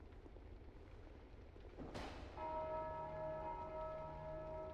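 A loud bell rings once in Dark Souls 2, a sharp strike followed by a long, shimmering tonal ring that sustains evenly over a low rumbling background.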